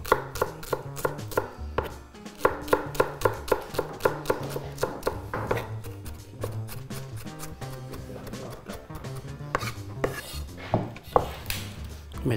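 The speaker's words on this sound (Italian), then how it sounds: "Si va ad affettare e tritare lo scalogno" A kitchen knife chops shallot on a cutting board for a potato gratin, rapid sharp rhythmic taps close up, running in quick bursts with brief pauses and some scraping between them.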